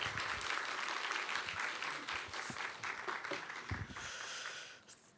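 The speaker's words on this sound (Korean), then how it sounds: "강사님 모실 때 환영과 격려의 박수" Applause for a lecturer at a church retreat for young and middle-aged adults, a dense crowd of clapping that holds steady, then thins and fades near the end.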